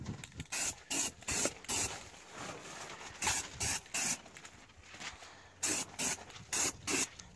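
A can of metallic dark copper spray paint laying a base coat on car wheel rims, short hissing bursts in a fairly even rhythm, close and clear.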